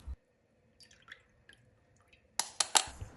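Millets being washed in water in a kitchen: a few soft drips and light sloshes, then a quick run of louder wet splashes and squishes near the end, close and fairly quiet, with no talk.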